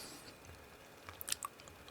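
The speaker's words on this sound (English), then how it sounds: "It's kind of difficult to chew, while at the same time it melts in your mouth." Close, moist chewing of aged raw high meat, soft wet smacks with a few sharper clicks clustered near the end, faint and without talk.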